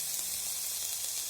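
Curry leaves and tomato fry in a pan, a brief, even, moderately quiet sizzle that stays steady throughout with no speech.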